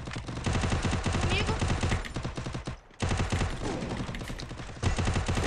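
Steady, loud automatic weapon fire rattles through the battle royale game Free Fire in quick repeated bursts, pausing briefly before resuming, while a player talks over it.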